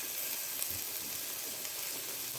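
Ginger garlic paste frying with onions in a hot pan, a steady close sizzle with faint crackles, with no talking over it.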